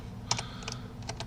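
A handful of quiet keystrokes on a computer keyboard as Linux commands are entered, scattered clicks over a faint steady hum, with no speech.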